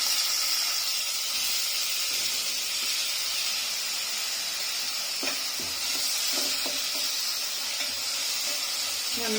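Chopped onions frying in hot oil with cardamom, cinnamon and fennel seeds for a kurma, a steady close sizzle and hiss with a few scraping stirs in the middle.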